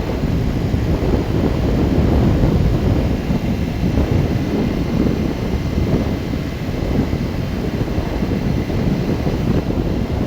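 A 2010 BMW R1200RT motorcycle cruises at a highway speed of about 100 km/h. A constant loud roar of rushing wind swamps everything, with no distinct engine note or voices.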